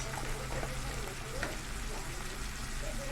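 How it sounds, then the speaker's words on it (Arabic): Flour frying in a pan with onions and chicken sizzles steadily and densely throughout, a close, continuous hiss with faint stirring and no voices. "هنحمرها مع البصل والفراخ كده عشان نضيع طعم الدقيق منها، عشان تتقل معانا الصوص"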